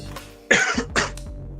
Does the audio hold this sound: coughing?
yes